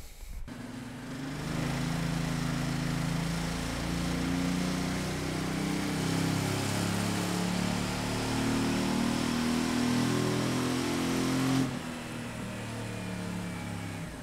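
A Ducati Multistrada 950 S motorcycle with an Akrapovic exhaust revs hard and steadily on a dynamometer for several seconds, a sustained loud roar that holds its pitch before dropping off near the end.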